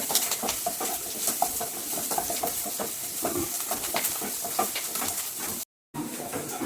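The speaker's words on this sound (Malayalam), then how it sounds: "ഉള്ളി, ഇഞ്ചി, കരിവേപ്പില കിട്ടണം. ഇത് നന്നായിട്ട് അങ്ങോട്ട് വഴറ്റുക." Onion, ginger and curry leaves being sautéed in a pan, a steady close sizzle with rapid scraping and stirring strokes throughout, broken by a brief dropout near the end.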